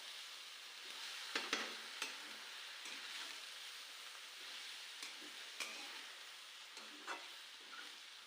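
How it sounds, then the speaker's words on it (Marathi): Vegetables sauté in a pan over low to medium gas with a quiet, continuous sizzle, broken by faint scattered clicks and scrapes as they are stirred. "आपल्याला भाजी व्यवस्थित परतून घ्यायची"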